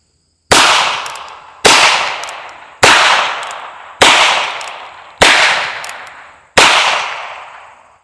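Six sharp .22 LR shotshell reports, CCI and Federal loads, fired outdoors at an even pace about a second apart, each loud crack trailing off in a short echoing decay, with no talking.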